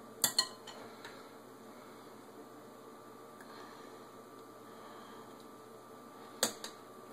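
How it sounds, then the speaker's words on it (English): Metal spoon clinking against a bowl while apple pie filling is scooped into hollowed apples, a couple of sharp clinks at the start and again near the end, with quiet scraping and room hum between, no talking. "We're going to go ahead and spoon that into the apples over here."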